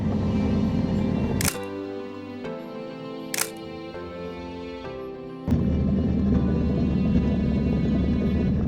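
Two or three sharp camera shutter clicks, spaced a couple of seconds apart, during a photo stop at a mountain refuge on Mont Lozère, over a steady low engine hum.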